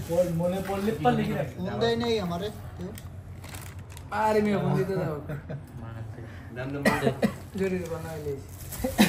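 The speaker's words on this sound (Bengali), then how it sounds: "তুমি যে কাশতেছো, মাস্ক লাগাইয়া কাশো।" A person coughs in a home kitchen where iftar food is being mixed by hand, short coughs mixed in with nearby voices talking over a low steady background hum.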